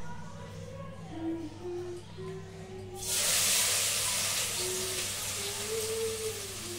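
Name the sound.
chopped onion frying in a pan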